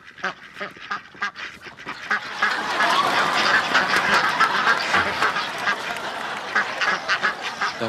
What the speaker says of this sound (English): ducks in the bathroom